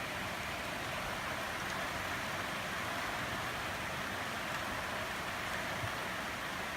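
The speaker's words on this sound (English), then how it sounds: "Rain hampering play." Steady rain falls on a field with a shed nearby, a dense, even hiss that holds constant throughout with no voices.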